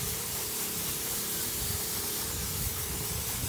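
A steady, soft hiss of sugar water sprayed onto a freshly poured exposed-aggregate concrete driveway, continuous and even, with a faint low hum underneath and no speech.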